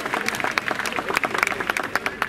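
An audience at a national awards ceremony in India claps, a brisk patter of distinct, fairly close hand claps rising and falling in uneven bursts.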